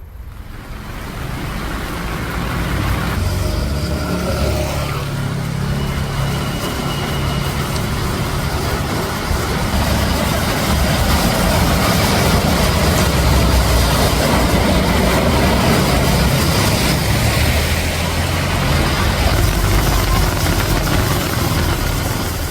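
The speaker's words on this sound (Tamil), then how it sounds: "இந்த நிலையில் ஒரு சில வாகன ஓட்டிகள் ஆபத்தை உணராமல் பேரிகார்டுகளை தாண்டி செல்கின்றனர்" Vehicles roll across a rain-flooded bridge past barricades in Theni during heavy rain, a steady loud rumble of engines and rushing water that continues throughout with no talk.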